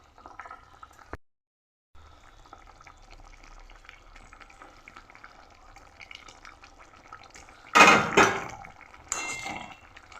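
Fried pieces tipped into a pot of nearly cooked potato and cabbage curry, a burst of sizzling and clattering near the end after a long quiet stretch of faint kitchen noise.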